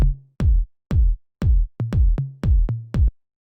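Punchy electronic drum hits, deep booming 808 toms alternating with short kick thumps in a steady pattern, each tone decaying quickly.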